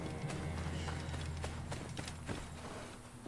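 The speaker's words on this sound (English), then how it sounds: "Oh, donkey, sorry, another donkey." Donkey hooves clip-clop at a steady walking pace in Assassin's Creed Origins, fairly faint against a constant low game ambience.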